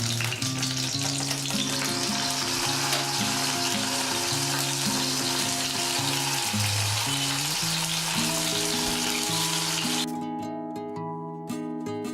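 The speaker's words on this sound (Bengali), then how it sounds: "তারপরে তেজপাতাটা নেড়ে আমি এর মধ্যে মশলাটা" Spices and bay leaf crackle and sizzle in hot oil for a Bengali banana stem pulao, a loud continuous close frying hiss that cuts off abruptly near the end, with no talking.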